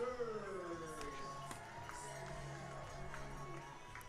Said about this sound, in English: Nice reaction from the crowd here for the local product.